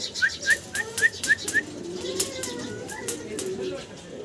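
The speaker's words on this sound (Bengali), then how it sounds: "বাটারফ্লাই কবুতর" Three butterfly pigeons make a run of short, bright chirping calls early on, then softer cooing and scattered fluttery clicks at moderate volume.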